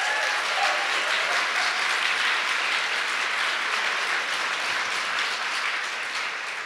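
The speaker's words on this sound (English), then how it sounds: "thank you for your applause" Dense, sustained applause from an audience greeting Clare Daly at a political gathering, a steady wash of many hands clapping that fades slightly toward the end, with no voices.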